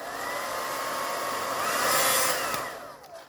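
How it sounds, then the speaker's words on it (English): A hand-held hair dryer runs continuously at close range with a steady airy whoosh and whine, its pitch shifting slightly as it is moved, swelling louder midway before easing off near the end. "Who the fuck would throw a perfect good hairdryer? It works perfectly."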